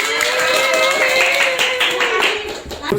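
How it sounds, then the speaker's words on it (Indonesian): Hands clap together in a burst of applause from children in a classroom, many claps blending into a steady patter alongside voices. "Oke, tepuk tangan."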